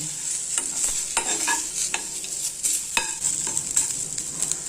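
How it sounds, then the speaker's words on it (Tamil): Dill seeds and spices dry roast in a pan, with steady close scraping and stirring strokes over a faint continuous sizzle, the spoon hitting in an irregular rhythm. "சதக்குப்பை எல்லாமே நல்லா வறுபடுட்டும்"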